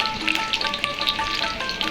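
Onions frying in mustard oil in a wok set on a wood-fired stove, a close, lively sizzle with sharp popping crackles and spits scattered throughout, no speech.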